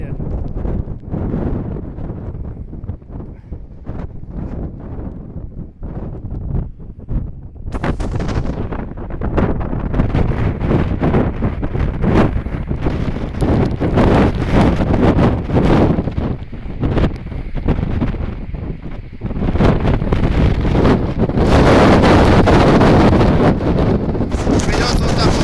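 Storm Eunice winds gusting up to 30 m/s on the Baltic Sea coast at Baltiysk: loud, roaring wind buffets a microphone in heavy, continuous gusts that intensify after the first few seconds.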